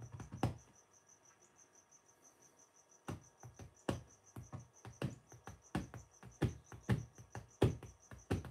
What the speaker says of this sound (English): I have crickets.